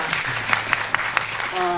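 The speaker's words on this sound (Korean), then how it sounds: "여러분 박수 좀 부탁드리겠습니다" A short burst of audience applause at a film press conference, scattered claps rising over a low hum, with a few brief sharper claps near the start.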